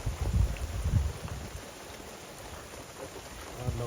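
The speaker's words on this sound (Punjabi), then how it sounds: "ਧੁੱਪ ਕੱਢਤੀ ਪੂਰੀ ਟੜੀ ਤੇ ਨਾਲੇ ਮੀਂਹ ਪੈ ਰਿਹਾ" Steady rain falling, a soft continuous hiss with some low rumbling bursts early on, no voices.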